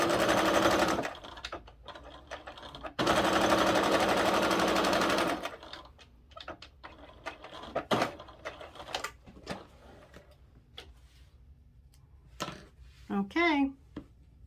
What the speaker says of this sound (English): sew a line straight down on the opposite side